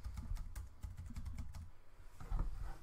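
Someone typing a password on a computer keyboard: a close, fairly quiet run of irregular key clicks, with a short pause and a final cluster of presses.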